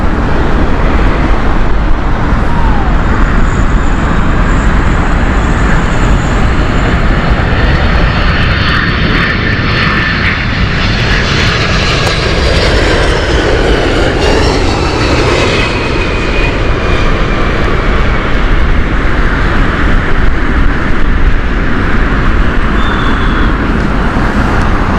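A United Boeing 767 on the Newark flight at Heathrow produces a loud, continuous jet engine roar that dominates the whole stretch, steady and close, with a faint rising whine toward the end.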